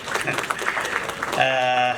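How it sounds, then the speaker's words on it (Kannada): A crowd claps for a film song's team in a short burst of lively applause, which gives way to a sustained tonal voice or music near the end. "ಒಂದು ದೊಡ್ಡ ಚಪ್ಪಾಳೆ ಸರ್ ನಿಮಗೆ"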